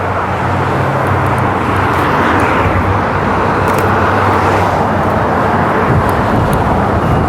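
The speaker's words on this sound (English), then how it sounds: "we're just showing what the traffic looks like on this side" Road traffic on Hollywood Road roars steadily and loudly nearby, a dense continuous wash of engines and tire noise with no pauses and no talking.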